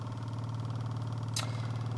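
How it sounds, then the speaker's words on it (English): A resonant Stirling engine runs with a steady, low mechanical hum and a regular pulsing oscillation, close and fairly quiet, with a brief hissy burst partway through. "I'm sure you can hear the frequency that the engine is running at"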